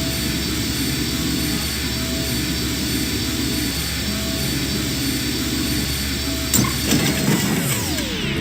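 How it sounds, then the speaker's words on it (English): In the video game I Have No Mouth & I Must Scream, a fork short-circuits engine wiring: a steady mechanical engine drone gives way to a sudden sharp electrical crackle and zap, followed by a descending whine as the engine dies. "The metal in the fork short-circuited the engine wiring."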